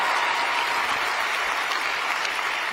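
A large audience at a political conference bursts into sustained applause, a loud, dense and even roar of clapping filling the whole moment with no speech on top.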